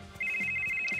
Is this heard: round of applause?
no